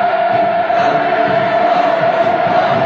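Dense crowd of welcoming onlookers in North Korea cheering enthusiastically as a motorcade passes during Hu Jintao's visit; a loud, steady, unbroken roar with a thin whistle-like tone running through it, no distinct voices.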